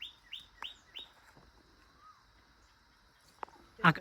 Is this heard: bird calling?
yes